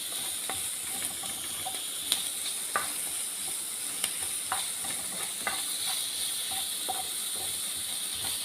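Minced garlic sautéing in a pan with a steady close sizzle, broken by scattered clicks and taps as it is stirred, with no talking.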